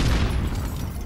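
A grenade in Call of Duty Modern Warfare goes off as a brief, loud, deep rumbling boom with a dense low roar that fades over about a second.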